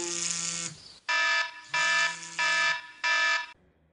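An electronic alarm clock rings in repeated loud, steady beeping bursts, a long first tone then four evenly spaced pulses, each ending abruptly, with nothing else audible.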